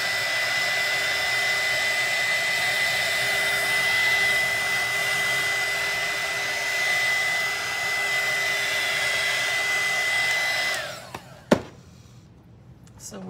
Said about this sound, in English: I'm gonna hit this with a dryer just for a few seconds